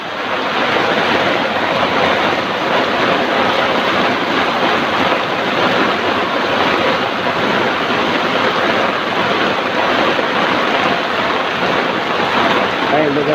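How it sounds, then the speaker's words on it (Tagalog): Someone wading through floodwater in a flooded street, a loud continuous rushing and sloshing wash with wind noise buffeting the microphone throughout, with no clear pauses. "Pero ang hirap maglakad sa baha."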